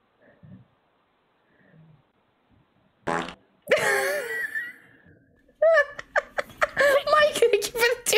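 Fart sound effects played on a livestream, a long sputtering blast followed by a rapid string of short flappy bursts, with faint voice-like sounds earlier.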